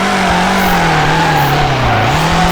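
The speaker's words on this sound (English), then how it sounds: "But it's hard when you're driving a drift car." Drift car in the FR Legends video game, a loud continuous engine note sliding in pitch alongside tire skid noise, close and unbroken, without voices.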